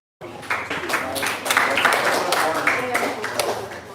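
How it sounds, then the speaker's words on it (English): An audience claps together in a live session, a dense run of many hands starting abruptly and continuing loudly for several seconds. "Let's clap for one now."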